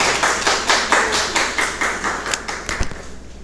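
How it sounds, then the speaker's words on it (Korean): A church congregation claps steadily in welcome for a missionary coming forward during a Sunday worship service, a broad wash of many hands with a faint pulsing rhythm, fading slightly toward the end. "우리 김희균 선교사님 앞으로 나오실 때 우리 큰 박수로 환영하도록 하겠습니다"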